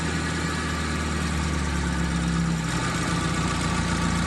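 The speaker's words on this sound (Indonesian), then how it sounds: "sekarang mesin sudah kembali hidup" Mitsubishi T120SS MPI car engine idling steadily after being restarted, a continuous close low rumble with a constant hum and no talk, following a test of a faulty CKP sensor.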